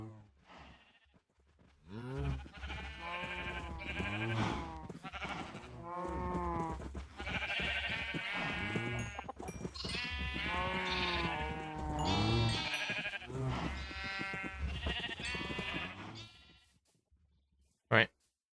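Sheep bleat repeatedly in the video game Minecraft during breeding, loud and close, with a sharp click near the end.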